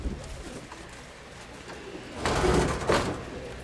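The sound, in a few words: pigeons cooing in a dovecote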